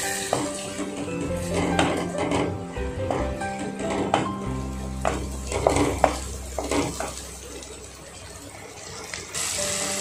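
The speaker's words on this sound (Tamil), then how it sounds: "இப்போ நம்ம வந்து முட்டையை வந்து புரட்டிடலாம்" Egg being stirred and turned with masala in a pan on medium flame, scraping spoon clinks and soft metallic taps in an uneven rhythm, close and moderately quiet.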